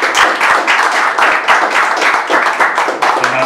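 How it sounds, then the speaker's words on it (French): An audience clapping steadily at a talent contest, a dense, lively burst of applause close by that continues without pause. "Veuillez applaudir,"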